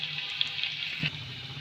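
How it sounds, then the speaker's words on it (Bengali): Chopped garlic, seven or eight cloves, frying in hot oil in a pan while cooking Indian-style macaroni pasta; a steady, soft sizzle runs throughout with a brief stir-like bump near the middle. "রসুনটাকে আমি হালকা একটু লাল করে ভেজে নেব।"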